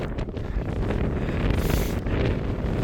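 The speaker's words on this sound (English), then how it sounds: "it's kind of windy" Strong wind buffets the microphone on the summit of Mt Whitney after a snowstorm, a loud, continuous roaring rumble with gusty swells and no talking.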